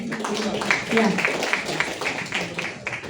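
A church audience at a Bible quiz in Sharjah claps for a correct answer. Scattered, uneven clapping runs under a speaking voice for a few seconds.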